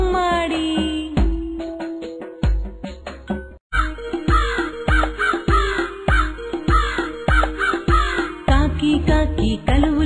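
Cartoon crow caws ring out in an animated Telugu nursery rhyme, repeated in short rhythmic bursts over a bright, loud musical backing.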